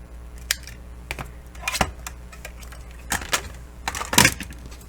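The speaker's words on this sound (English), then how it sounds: "So all I do is cut the ½ inch off." Paper is being cut to trim half an inch off a Z fold pocket card, giving a few short, crisp snips and rustles spaced through a quiet room.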